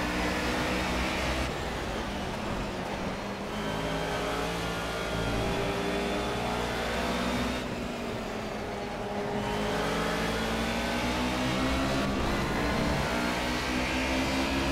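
A Mercedes 190E race car's engine in Project CARS at a rain-soaked Brno circuit, droning steadily with rising revs through the gears and brief dips at shifts, loud and continuous with no voices.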